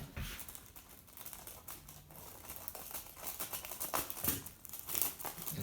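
Foil insulation being trimmed for a ski boot gives off close, steady crinkling and crackling with sharper rustling bursts near the end, heard alone with no talking.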